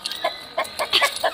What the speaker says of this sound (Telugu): వచ్చేసి మా పుంజు.